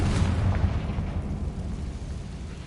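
A Confringo spell explosion from Hogwarts Legacy rolls out as a deep, loud blast with a rumbling tail that fades over a couple of seconds, with no voices over it.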